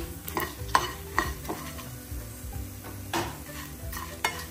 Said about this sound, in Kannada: ಜೀರಿಗೆ, ಸಾಸಿವೆ ಹಾಕ್ತಾ ಇದ್ದೀನಪ್ಪ.